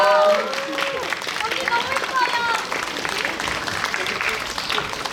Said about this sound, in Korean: 여러분 뜨거운 박수 부탁드릴게요.